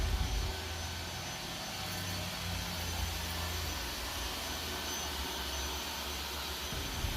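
A Roomba s9 robot vacuum runs over a shag rug with a steady, loud whirring roar of motor and brushes that holds level throughout, with no voices.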